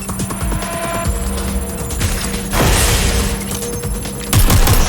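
Gunfire in the Watch Dogs Legion video game, a loud steady volley of shots with heavier bursts and crashing impacts rising partway through, with no talk.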